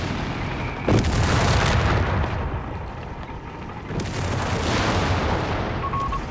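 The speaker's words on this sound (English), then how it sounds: "Heavy mortar coming down in this area." Heavy mortar shells landing in Company of Heroes 3, two deep booming impacts a few seconds apart, each a loud close blast with rumbling tail over continuous battlefield noise.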